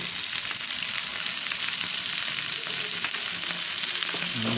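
Okra (ladies' finger) frying in a pan over a medium flame gives a steady, close, loud hiss and sizzle that runs the whole time without a break, with no talking.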